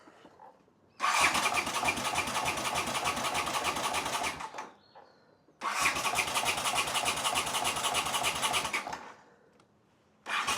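An old, cheap motorcycle engine is cranked off a jump pack in two long bursts of fast rhythmic starter churning, each about four seconds, with no catch or firing between them and a brief pause in the middle.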